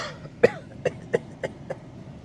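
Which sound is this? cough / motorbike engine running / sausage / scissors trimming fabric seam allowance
cough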